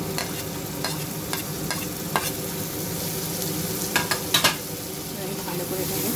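Green chillies and spring onion fry in a pan with a soft, continuous sizzle, while scattered clicks and scrapes of stirring come through clearly.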